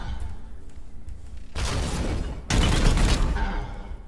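Gunfire in the Warhammer 40k: Chaos Gate - Daemonhunters video game, heard as two loud, dense bursts of shots and impacts, the second heavier and rumbling, after a quieter stretch.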